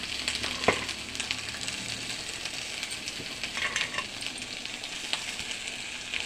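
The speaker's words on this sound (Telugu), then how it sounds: "వేగుతున్న దాంట్లో ముందుగా ఉడకబెట్టుకున్న వార్చుకొని పిండుకున్న దాన్ని అరటిపోని ఇందులో వేసుకోవాలి" Boiled, squeezed banana flower dropped into a hot frying pan, giving a steady hissing sizzle with a sharp clink near the start and light stirring scrapes, no voices.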